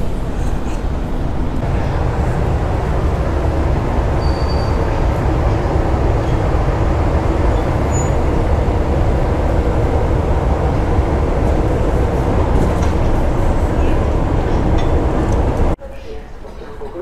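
Czesio, a locomotive hauling retro passenger wagons on the TLK Orzeszkowa service, gives a loud, steady, close rumble of rolling stock that runs unbroken before cutting off abruptly near the end.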